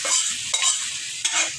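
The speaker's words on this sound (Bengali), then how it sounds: "পেস্টটাকে বাদামি করে ভেজে নিলাম" Spice paste with dried chilies frying in a pan for beef kala bhuna, a steady bright sizzle broken by two scraping stirs of a spoon, close and alone with no talk.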